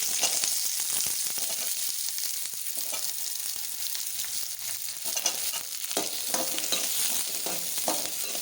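Ridge gourd sautés in a pan with a continuous bright sizzle, broken by frequent scraping stirs that come through as irregular soft clicks and swishes, close and steady throughout with no talking.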